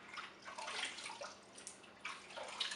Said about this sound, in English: And then simply rinse off.